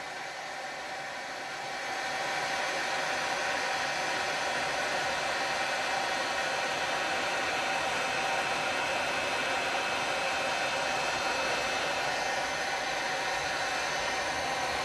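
A heat gun set to high fan and low heat blows over drying paint with a steady, dense whoosh that swells to full strength after about two seconds, then holds a constant, close hiss to the end, with no talking.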